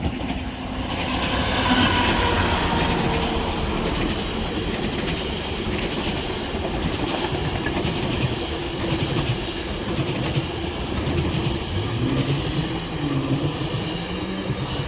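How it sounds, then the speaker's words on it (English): A GO commuter train rumbles past a railroad crossing in Burlington, Ontario, with steady clickety-clack and roaring wheel noise, loud and continuous throughout, with no voices. "Oh look, there goes a GO train."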